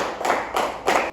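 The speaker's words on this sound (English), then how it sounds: "Now let's give 5 claps to group 2." A classroom of students claps together in a quick rhythmic group cheer, three or so sharp bursts of hand claps close by with no talk over them.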